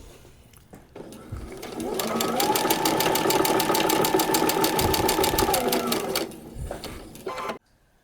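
A sewing machine stitches a paper-pieced quilt block in a fast, even mechanical chatter lasting several seconds, starting up and slowing near the end, heard up close.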